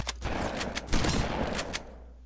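Several sharp gunshot bursts from a shotgun in the video game Garry's Mod, loud and close, fired in a quick irregular volley over a roomy game backdrop with no talk.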